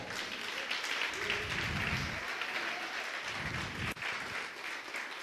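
A church congregation applauds during a sermon, broad sustained clapping that fills the room at moderate volume, with a murmur of voices under the hands and a brief dip near the end.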